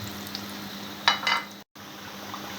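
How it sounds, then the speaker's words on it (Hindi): Chicken kachori frying in hot oil, a steady bubbling sizzle broken by a brief louder crackle and splash as the pieces are flipped over, followed by a moment of silence. "इसको थोड़ी थोड़ी देर के बाद इस तरह से पलटते रहिए, ताकि वो दोनों साइड से अच्छे से फ्राई हो जाए।"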